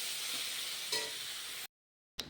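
Food sautéing in a pan on low heat, a soft steady sizzle with one brief scrape of stirring midway, then a sudden cut to silence before the sizzle briefly returns, close and fairly quiet with no speech.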